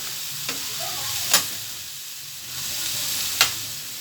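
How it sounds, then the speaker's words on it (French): Fish and peppers frying in a pan, a soft steady sizzle with a couple of brief clicking scrapes from a utensil, fairly quiet and without any voices. "Regardez un peu la cuisson du poisson."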